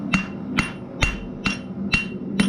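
A blacksmith hammers a steel bottle opener over the anvil edge to round it, six evenly spaced ringing blows about half a second apart, loud and close with no talking.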